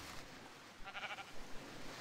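A single sheep bleats in Minecraft (Tekkit), a short, quavering, faint bleat over a low, steady background hum.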